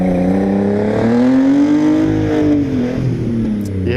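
A Nissan 300ZX Z32 engine hammered hard under heavy throttle, rising in a loud, close rev that swells and then drops back, with no talk over it.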